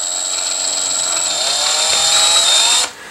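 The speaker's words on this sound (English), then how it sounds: "Use the drill bit with the 1/8. You drill it" A power drill with a 1/8-inch bit whines steadily at high speed for about three seconds while drilling a hole during furniture assembly, then stops abruptly, leaving a quieter background.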